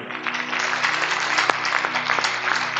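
A church congregation at a Republic Day service breaks into sustained, dense applause that fills the whole stretch, fairly loud and steady with no talking over it.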